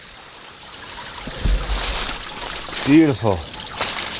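A woodland stream trickles as a soft, continuous wash in the background, while a person's voice briefly speaks over it.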